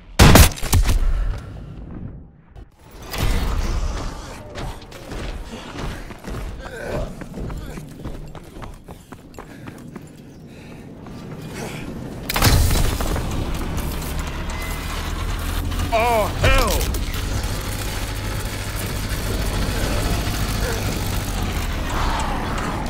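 Rocket launcher firing in Call of Duty WWII: a sharp blast early on, then a heavy boom around the midpoint followed by rumbling battle noise and mechanical clatter, with voices talking over the action.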